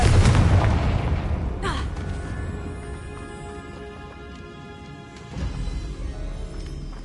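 Hogwarts Legacy's Confringo spell on PS5 erupts in a loud close explosive boom that decays into a rumbling tail, followed by a second swell of debris-like rumble, with no talking.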